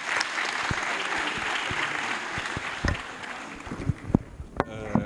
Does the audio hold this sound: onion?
no